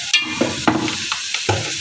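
Spoon scraping and clacking through a macaroni mixture in a frying pan, a few quick irregular strokes over a soft sizzle, close and moderately loud.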